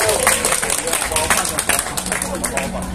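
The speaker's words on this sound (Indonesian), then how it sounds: "boleh berikan tepuk tangan yang meriah juga untuk Fedi Nuril" A crowd at a film event applauds for actor Fedi Nuril, dense overlapping claps filling the space at a steady, lively level, with a voice speaking over it.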